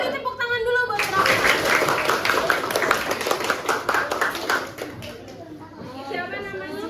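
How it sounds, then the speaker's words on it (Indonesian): A fifth-grade maths class claps for a student, a burst of quick, uneven hand claps from many children that thins out toward the end, with voices chattering around it. "Beri tepuk tangan dulu buat Rafa."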